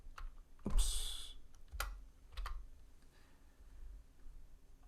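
Keys clicking on a computer keyboard while numbers are entered, with a few scattered taps and one longer burst of rustle, close and fairly quiet.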